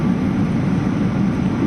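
Steady, loud airliner cabin roar during the morning descent into Frankfurt airport in Germany after a twelve-hour flight from Hanoi, a constant low engine drone with no voices.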